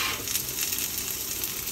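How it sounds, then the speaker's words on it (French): Garlic sizzling in olive oil in a pan over medium heat, a steady close crackling hiss running unbroken with no talk. "On va y mettre notre ail."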